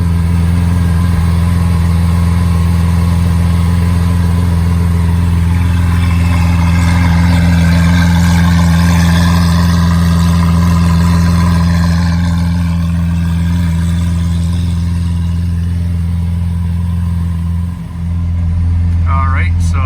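Lamborghini Aventador SV engine running just after a cold start, a loud, steady, deep droning idle with strong low harmonics, with a slight rise and fall in pitch toward the end.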